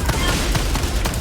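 Dense, rapid automatic gunfire from the video game Helldivers 2 crackles nonstop at close range, heavy low booms rolling underneath.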